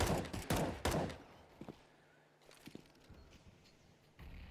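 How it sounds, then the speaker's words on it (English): Glock pistol fire in a competitive Counter-Strike match on the Inferno map: a quick cluster of three loud shots at the start, then scattered fainter distant pops and game noise. "The Glock trying to do some long-range damage there."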